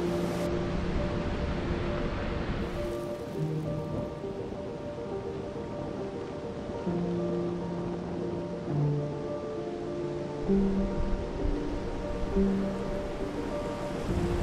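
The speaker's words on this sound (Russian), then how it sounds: "мощнейшие прибрежные волны, которые выбрасывают на берег огромную груду мелких камней" Powerful waves crash onto a pebble shore on the Fuerteventura coast, a continuous loud roar of surf with rattling stones, heard up close and alone, with no voices.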